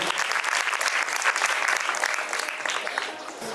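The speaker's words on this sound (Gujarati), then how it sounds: "તો જોરદાર તાળીઓથી આપણે વધાવીએ." An audience at a children's poetry gathering at a school bursts into loud, sustained applause that fills the room and eases slightly toward the end.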